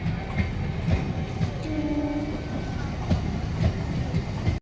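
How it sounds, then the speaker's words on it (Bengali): Local train at Asansol station with a steady rumble and rhythmic wheel clatter, plus a faint whistle tone in the middle of the stretch, under busy platform noise. "আর লোকাল ট্রেন ঢুকে গেছে।"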